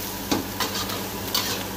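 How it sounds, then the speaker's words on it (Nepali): Onions sizzle steadily in a pan for an Indian-style chickpea curry, with a few soft scraping strokes of stirring over the frying hiss. "प्याजलाई यो इन्डियन खानामा के हो भने जति भुट्यो त्यति स्वादिलो हुँदै जान्छ"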